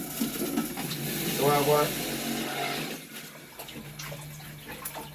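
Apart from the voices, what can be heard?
juicer machine juicing cucumbers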